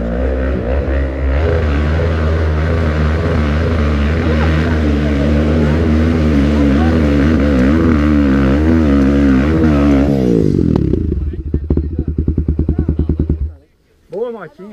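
A motorcycle engine roars loud and close, revving and wavering for several seconds, then breaks into rapid popping before cutting off; a brief voice follows.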